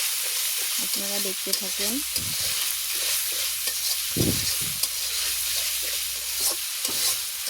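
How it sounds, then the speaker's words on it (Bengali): Spice masala is stirred and fried in a pan with a Bangladeshi cooking method. A spoon scrapes in irregular strokes over a soft, steady sizzle, and a voice speaks briefly. "এখন এটা মশলাটা আমি ভালো করে কষিয়ে নেব।"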